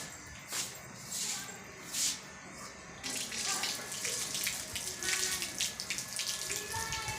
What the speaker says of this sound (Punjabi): ਕਿ ਪਾਣੀ ਆਇਆ ਜਾਂ ਨਹੀਂ ਆਇਆ ਮੋਟਰ ਤਾਂ ਮੈਂ ਲਗਾਤੀ